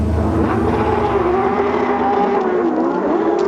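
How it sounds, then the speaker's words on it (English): Several Porsche Supercup race cars roll onto the starting grid at the Bahrain circuit, their engines blending into a loud continuous rumble with overlapping revving tones. "Cars filing onto this 25-car grid"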